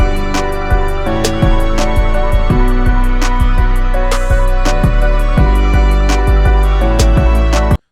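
Full music mix with piano played back: dense, steady chords and bass over crisp regular percussion hits, loud and continuous before cutting off abruptly at the end.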